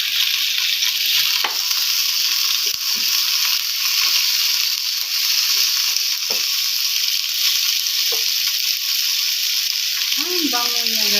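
Lemongrass hits hot oil in a pan while cooking chicken kinamatisan, giving a loud, constant sizzle with a few sharp clinks of a utensil against the pan.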